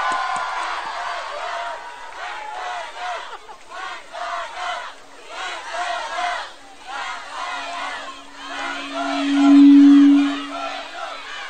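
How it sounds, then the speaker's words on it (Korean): A large crowd at an outdoor student reunification rally cheers and shouts in waves, with scattered clapping, and the cheering swells toward the end. "뜨거운 박수 함성으로 발언을 듣겠습니다"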